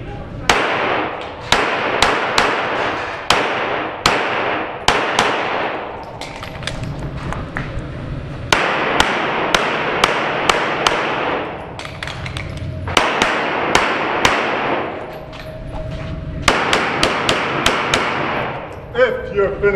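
Rapid pistol gunshots crack in loud, sharp bursts through a timed practical shooting competition stage, with clusters of quick shots separated by brief pauses for movement and reloads over roughly twenty seconds.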